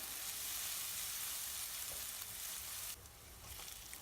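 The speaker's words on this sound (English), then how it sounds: "Add the oil in the skillet over medium-high heat. Add garlic and chili. Stir for a minute." Garlic and chili frying in oil in a skillet over medium-high heat, a steady close sizzle with broadband hiss that thins a little toward the end while being stirred.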